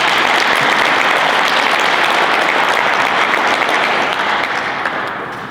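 Conference audience at a keynote address giving sustained applause, a loud, dense wash of clapping that holds steady and begins to fade at the end.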